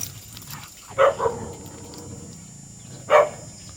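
Jindo dogs barking while a puppy plays with larger dogs: two short, sharp barks about two seconds apart, moderately close, over a quiet background.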